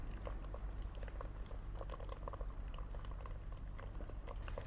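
Onions cooking in a pan for soya chaap gravy give off a soft, steady bubbling sizzle, low and continuous with faint crackles, with no talking.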